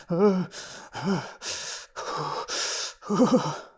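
A voice imitates the frightened breathing of a horror film, a series of sharp gasping inhales and shaky exhales in uneven bursts, loud and close.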